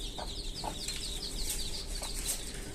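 Chickens cluck in short scattered bursts over a steady hiss of background noise, the calls moderately close and fairly faint, with no talking.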